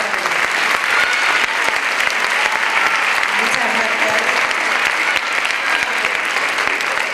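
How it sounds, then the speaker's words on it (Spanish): Festival crowd gives Consuelo sustained, even applause, a bright wash of many hands clapping for several seconds while a voice briefly speaks over it. "Y un aplauso de Consuelo."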